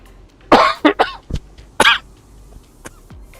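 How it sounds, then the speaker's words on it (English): A person coughs several times in quick bursts, close and loud, followed by a throat clear and quieter rough breaths. "This cough."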